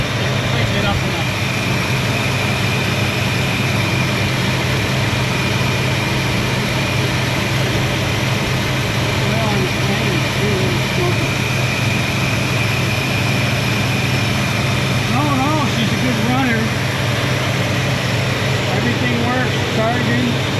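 A 1961 Chrysler Imperial LeBaron engine runs at a steady idle on a lift, producing a continuous low rumble with a constant hum. Faint voices are heard beneath it.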